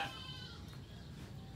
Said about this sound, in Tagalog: Magkakalaro rin po yung kambing at yung tupa.